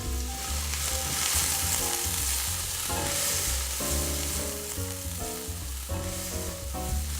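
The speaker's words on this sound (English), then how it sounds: "We're also going to saute that up with your leeks and your onions." Baby fennel, leeks and onions sauté in a hot pan with a loud, steady sizzle and crackle that carries on without a break, close up and alone with no voices.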